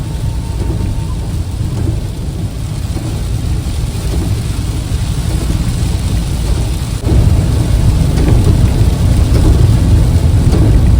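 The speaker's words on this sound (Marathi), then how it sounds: "जोरदार पाऊस आलाय" Heavy rain pours steadily near Rajapur, with deep thunder rumbling throughout, growing louder partway through; a dense, continuous roar close by.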